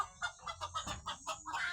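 Free-range village chickens cluck in a quick run of about eight short, evenly spaced calls, fairly close and clear over a quiet background.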